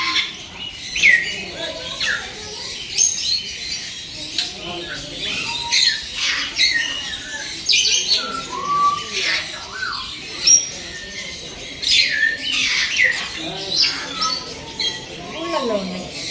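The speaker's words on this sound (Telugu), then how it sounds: "Peach faced love bird." Peach-faced lovebirds at the Nehru Zoological Park aviary in Hyderabad make a busy chorus of shrill, repeated squawks and chirps that overlap from start to finish.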